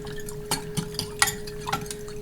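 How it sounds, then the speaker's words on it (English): A spoon stirs a yeast and sugar mixture for homemade French bread, a few soft scraping clinks against the bowl spaced irregularly over a low steady hum, close and fairly quiet. "we'll give that a good stir"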